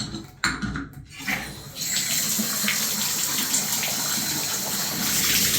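A three-handle Price Pfister bathtub faucet manifold starts running and water gushes loudly and steadily from it after a few bumps and clunks, close by and with no talk over it.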